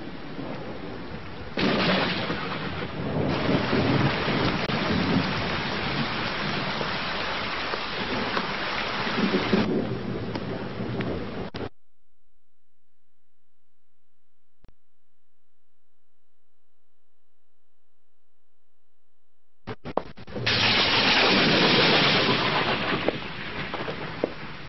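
Heavy rain pours steadily at night, broken by a stretch of near silence, then returns in a loud rushing downpour.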